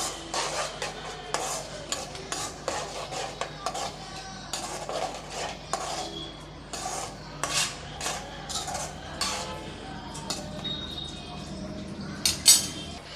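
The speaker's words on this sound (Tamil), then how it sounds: "இதில் நம்ம தக்காளி பச்சை மிளகாய் இஞ்சி பூண்டு அரைச்ச பேஸ்ட்டை சேர்த்துக்கலாம் நல்லா வதக்கி விட்டுறலாம்" Tomato, green chili and ginger-garlic paste are sautéed in a pan for egg pepper masala, with repeated close scraping strokes of a spatula and light metallic clinks in a steady rhythm.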